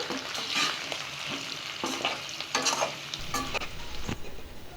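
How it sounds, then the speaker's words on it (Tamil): Potato chunks fry in a pan for restaurant-style dum aloo and are turned again and again until golden brown, with steady sizzling broken by repeated scraping and stirring knocks, close and fairly loud, no talking. "இது நல்லா ரோஸ்ட் ஆகிறது வரைக்கும் நல்லா இப்படி திருப்பி திருப்பி போட்டு நல்லா கோல்டன் ப்ரௌன் ஆகணும்"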